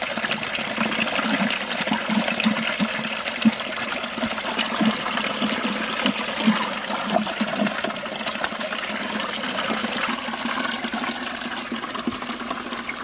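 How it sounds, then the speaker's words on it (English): Water from a homestead ram pump splashes steadily into a bucket and spills back into a flume, a continuous loud gushing and trickling wash with no pauses. "So water fills that bucket, goes to the drive pipe here, and then the excess just pours back into the flume there."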